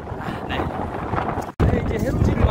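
Strong wind on a seashore buffets the microphone with a low, rumbling roar, dropping out for a moment before gusting back in.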